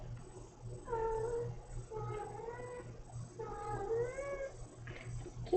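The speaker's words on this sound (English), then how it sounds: "I don't know if you can hear his little meows" A cat meows three times in close succession, drawn-out, rising and falling calls heard up close indoors over a low steady hum, with a brief rustle near the end.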